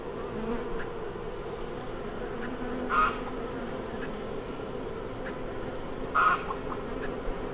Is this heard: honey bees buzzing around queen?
yes